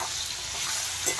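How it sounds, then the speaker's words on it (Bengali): Ginger, garlic and onion sizzle in hot oil for an egg curry, a steady close crackle with a brief louder flare near the end and no voices. "তেলের মধ্যে এখানে দেখেন আদা, রসুন আর পেঁয়াজ দিয়ে দিলাম।"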